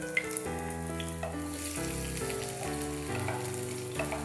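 Small chopped onions frying in a pan while cooking Thrissur-style beef with koorka, a quiet continuous sizzle with soft occasional stirring, heard under steady background music.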